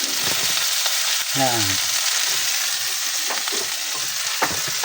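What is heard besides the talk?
onions frying in a pan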